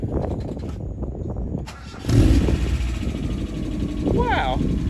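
A 1992 Mazda Miata with a MagnaFlow exhaust cranks and fires up, its engine catching about two seconds in and settling into a low rumbling idle, with people talking over it.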